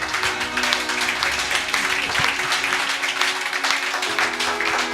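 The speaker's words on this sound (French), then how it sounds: "On acclame le Seigneur pendant qu'elle rejoint sa place." A church congregation claps steadily, a dense continuous applause with a sustained tone underneath and voices mixed in, close and fairly loud.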